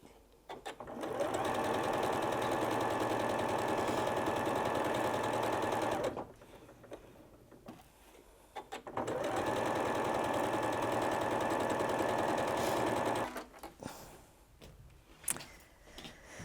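A sewing machine stitches quilt strips for a mini charm Valentine heart cushion in two long, steady runs of close, loud whirring, separated by a brief pause with light handling noise and followed by quiet rustling.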